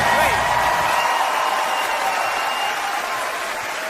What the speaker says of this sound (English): Bill Burr, a round of applause for Bill